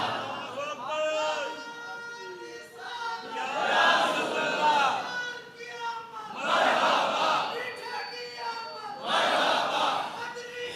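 A large religious gathering shouts together in response to a preacher, in repeated loud swelling bursts of massed voices with gaps between them.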